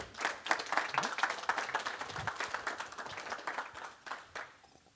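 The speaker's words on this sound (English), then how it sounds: "I would like to give Vincent a round of applause" A small audience claps for Vincent after a coding meetup talk, a quiet scattered round of individual claps that thins out and fades near the end.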